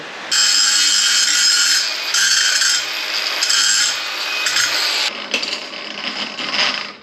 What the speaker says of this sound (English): I'm just going to drill a hole in those fish plates